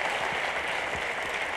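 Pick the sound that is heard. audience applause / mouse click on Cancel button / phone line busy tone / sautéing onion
audience applause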